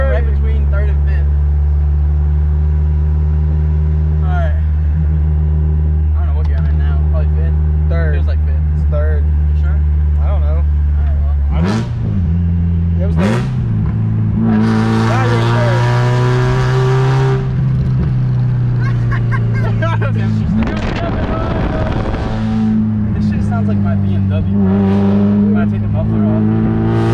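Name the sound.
Mazda Miata NB car engine while driving and shifting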